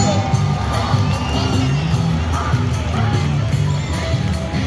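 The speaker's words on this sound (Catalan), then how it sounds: "I aplaudiment pel metro de Barcelona" A street crowd at Barcelona's Three Kings Parade cheers, shouts and whoops in a loud, continuous roar, children's voices rising through it and occasional sharp bangs.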